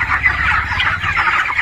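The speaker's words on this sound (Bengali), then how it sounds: "এই যে ফার্মে চলে আসলাম মুরগি দেখানোর জন্য" A flock of 20-day-old broiler chickens, about 1.3 kg each, clucks and chirps densely and continuously inside a poultry farm, filling the space with an overlapping chatter and no voices.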